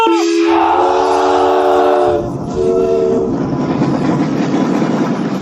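A train horn blares loudly for about two seconds, then sounds briefly again as the rumble and clatter of the train on the rails builds.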